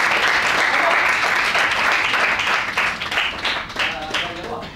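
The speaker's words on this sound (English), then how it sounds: "Round of applause for Ashim Abid." An audience breaks into a full round of applause, dense clapping loud at first and gradually thinning and fading over a few seconds.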